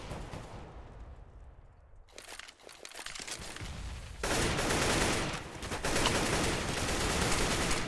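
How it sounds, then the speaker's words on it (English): Gunfire in Counter-Strike: Global Offensive on the Inferno map, a few shots cracking out amid dense, noisy in-game sound that swells louder halfway through, with no talk. "Novatic taking a couple of shots towards the enemies"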